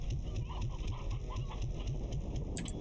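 Hens and a rooster clucking together, a busy flock of chickens giving repeated short clucks in a steady, close chorus, with a brief sharp higher call near the end.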